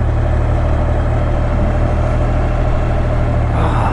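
A stock Honda XR650L dual sport motorcycle with a desert tank and stock exhaust idles nearby, giving a steady, even low rumble that holds unchanged for the full four seconds with no talking.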